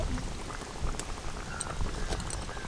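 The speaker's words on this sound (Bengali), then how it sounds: "ঝোল কিন্তু একদম টকবকে হয়ে ফুটে গেছে" Fish curry broth at a vigorous rolling boil in a pot, a dense continuous bubbling and popping that stays close and steady throughout with no voices.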